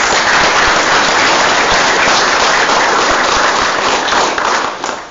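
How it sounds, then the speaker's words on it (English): Loud, dense applause fills a city council meeting chamber, a steady wash of many hands clapping that fades slightly at the end. "give them a big round of applause."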